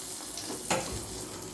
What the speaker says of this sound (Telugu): ఇలా రెడీ అయిన తాలింపుని చక్కగా ఈ మజ్జిగ పులుసులో వేసుకుని